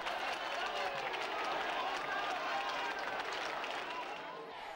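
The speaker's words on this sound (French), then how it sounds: "La foule est immense pour l'accueillir partout où il se rend dans le pays" A huge crowd claps and cheers in a steady, dense roar to greet returning King Simeon II of Bulgaria, the applause heard from a distance and sustained without a break.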